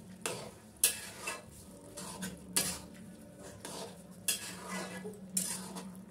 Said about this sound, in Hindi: दूध डाल के इसको अच्छे से मिला चला लेंगे।